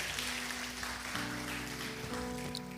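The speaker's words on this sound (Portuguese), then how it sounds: "dá uma salva de palmas ao Senhor" A church congregation claps in a soft, steady patter of applause, faint and even, while a low sustained organ or keyboard chord plays underneath.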